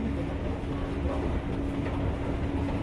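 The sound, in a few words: metro train running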